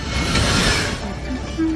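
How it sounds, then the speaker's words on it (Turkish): A cartoon train runs out of control on a railway, giving a loud, continuous rumbling roar that ends in a sustained horn-like tone. "Troy, tren kontrolden çıktı."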